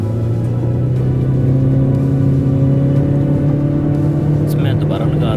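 A Toyota Aqua GR Sport accelerates hard from a standstill toward 100 on a busy road, with a loud engine hum that climbs steadily in pitch. A voice is faintly present under the drone.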